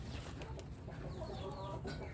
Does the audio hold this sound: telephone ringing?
no